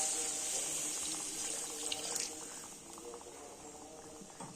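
Water pours into a cooking pot holding potatoes and spices for an Odia greens dish, a close, steady splashing stream that gradually softens toward the end, with no talking.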